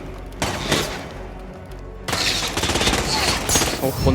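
Rapid bursts of gunfire and explosive bombs in the video game Hitman, loud and dense, with a short lull before firing resumes heavier.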